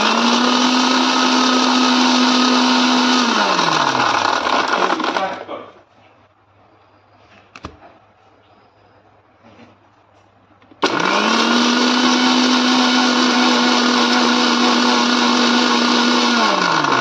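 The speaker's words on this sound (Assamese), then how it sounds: "আৰু ইয়াতে লৈ ল'ম ৫ৰ পৰা ৬ টুকুৰা বৰফ আৰু এই গোটেইখিনি এবাৰ গ্ৰাইণ্ড কৰি ল'ম" A mixer grinder blending bael sharbat with lemon and five or six ice cubes roars loudly and steadily, stops for several seconds with faint clatter, then starts again at full power.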